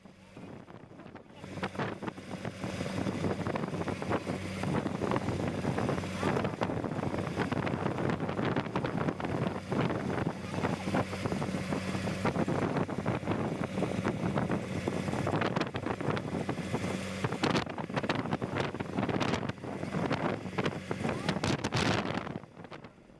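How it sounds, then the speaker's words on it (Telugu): Strong, constant wind roaring over the microphone at sea aboard a boat near a burning vessel, a loud unbroken rush with water and hull noise beneath for nearly the whole stretch. "సముద్రం కావడంతో గాలి కూడా విపరీతంగా ఉంది"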